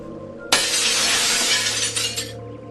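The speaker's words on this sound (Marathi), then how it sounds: "काच फुटण्याच्या आवाजाने बाकीच्या मित्रांचीही झोप उडाली" A glass window shatters in a sudden loud burst, and the breaking glass sprays and tinkles for about two seconds before fading, heard alone.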